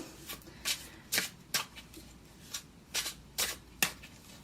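A deck of 8th House Tarot cards is shuffled by hand, giving a series of soft riffling bursts at a steady, uneven rhythm, close and fairly quiet, with no voices.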